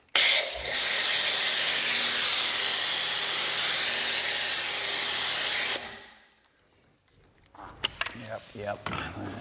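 Bilt Hamber Brake Buster wheel cleaner sprayed in one long, loud, steady hiss from a pressurised foaming sprayer, running about six seconds before cutting off, followed by quieter handling sounds.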